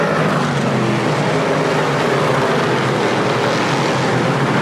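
Dirt race cars roaring around the oval at Airborne Speedway in Plattsburgh, New York, a steady loud wash of engine noise from the field rolling through the turns, with no talk.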